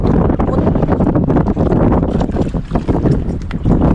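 Strong, blustery wind at sea roars into the microphone without letup, with a low rumble and choppy sounds from large waves underneath.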